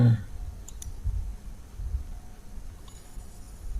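Two quick, crisp mouse clicks close together on an OK button while setting a presentation animation effect, with a faint later tick and a low room hum underneath.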